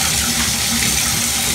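Hot water gushes steadily and loudly from a tap, a continuous dense splashing rush with no pauses or voices.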